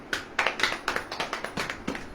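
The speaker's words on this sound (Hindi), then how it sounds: "ताली वाली बजेगी नहीं?" Small group applause at a preaching gathering, a modest scattered clapping of hands that is fairly quiet and uneven.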